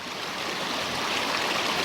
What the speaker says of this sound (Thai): อันนี้ชมลำธารน้ำใสๆสวยๆฮะเย็นๆนะ